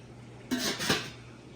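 A large metal cooking pot and its lid are handled in a kitchen. Two quick clanks sound close together, each followed by a short metallic ring, against a quiet background.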